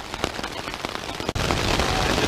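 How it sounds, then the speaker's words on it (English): Heavy rain drums steadily on the fabric of an ultralight tipi tent during a thunderstorm, a dense continuous patter with sharp drop impacts, briefly dipping before surging back at full strength; no thunderclap stands out. "I just missed the loudest thunder of all time. But rain is really coming down."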